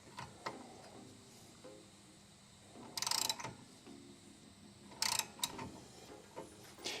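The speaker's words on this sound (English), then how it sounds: "now we can take our nut, our wheel nut, thread that on as well, and we're going to start tightening this" Wheel nut being tightened onto a new wheel stud on a Subaru BRZ rear hub, pulling the stud through; quiet irregular ratcheting clicks with two louder bursts of metallic rasping, close up and alone.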